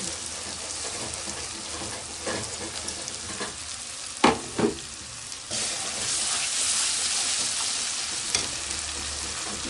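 Ginger-garlic paste with cumin paste, salt and fried onions sizzles loudly in a hot pan, a continuous crackling fry broken by a few clanks and scrapes of the spoon as it is stirred.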